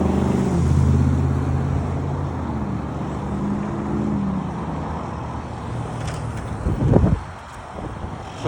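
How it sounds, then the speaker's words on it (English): Cross traffic moves through a road intersection, heard as a low, steady rumble of passing cars with wind buffeting the microphone, ending with a nearer vehicle swelling past. "right now we have the perpendicular traffic going."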